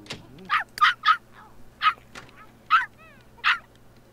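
Puppy in The Sims 3 yapping in short high barks, six quick yips spread over a few seconds with a brief whimpering squeal between, fairly close and alone over a low game hum.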